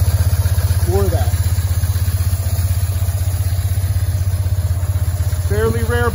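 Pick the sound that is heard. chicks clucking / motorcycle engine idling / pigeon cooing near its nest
motorcycle engine idling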